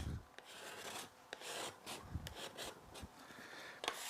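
Repeated rasping scrapes of a scraper dragged across a wooden workbench, lifting off residue, a series of short strokes at an uneven rhythm, close and fairly quiet.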